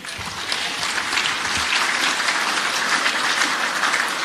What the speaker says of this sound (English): he deserves another round of applause tonight